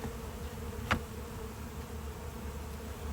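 Honey bees hum around an open hive box during an inspection, a steady low buzz with one brief sharp tap, close by.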